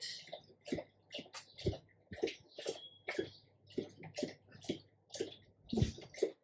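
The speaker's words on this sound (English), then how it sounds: "My dog is drinking water, so just give me a moment." A dog lapping water from a bowl indoors, a quick run of repeated wet laps and slurps in an uneven rhythm, close by and fairly quiet.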